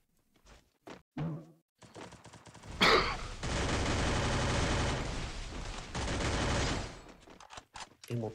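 Rapid bursts of video game gunfire crackle loudly, with short shots early on, then a sustained volley of shooting that fades near the end.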